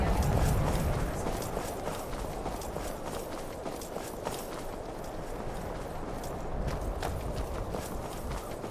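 Horse hooves clip-clopping in the video game Skyrim, a steady run of close, even hoofbeats carrying on throughout over a constant ambient game background, with no talk.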